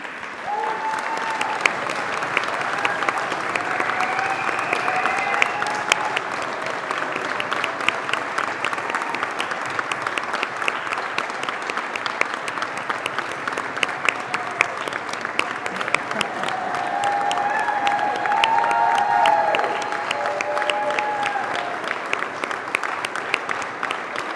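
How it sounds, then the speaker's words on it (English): A graduation ceremony audience claps in sustained, dense applause filling a hall, steady and even for over twenty seconds with a slight swell toward the end and faint voices underneath. "so you can clap again."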